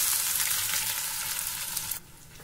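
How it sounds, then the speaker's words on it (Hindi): Finely chopped onions, two large ones, hit hot oil in a pan with roasted cumin and asafoetida, giving a loud, steady sizzle that drops off sharply near the end. "अब इसमें डालेंगे 2 बड़े साइज का बारीक कटा हुआ प्याज।"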